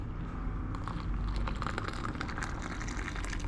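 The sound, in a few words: hot water poured into coffee cup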